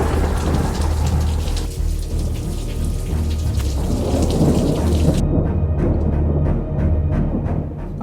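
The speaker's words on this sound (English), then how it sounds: "But thunderstorms, that's what we're here for." Thunderstorm with heavy rain pouring steadily and deep thunder rumbling beneath it, loud and close, with the roar thinning toward the end into separate drips.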